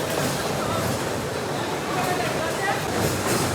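A toy fire fighter train ride at an amusement park rumbles along steadily amid a noisy crowd, with children's voices and babble running throughout.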